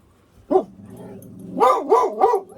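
A dog at an RV barks at a mailman: one sharp bark, then a quick run of three more barks close by, with quiet gaps between.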